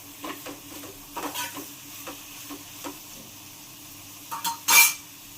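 Washed tripe (boti) is stirred in a frying pan, with a utensil scraping and clinking against the pan in uneven strokes over a soft sizzle, ending in a louder burst of scraping near the end.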